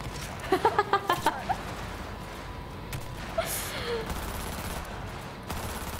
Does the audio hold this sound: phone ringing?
no